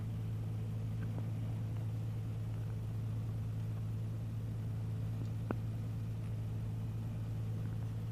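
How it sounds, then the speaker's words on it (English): A small airplane taxis for takeoff on a snowy field, its engine a steady low rumble and drone that holds evenly throughout, with faint cabin noise and one brief click near the end. "So we're taxiing for takeoff to the north."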